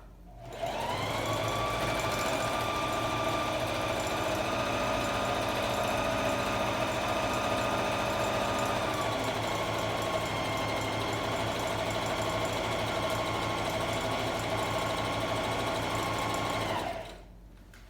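A sewing machine stitches a tote bag in one continuous run, a close, loud, steady mechanical whir that starts and stops cleanly at the ends, with no talking.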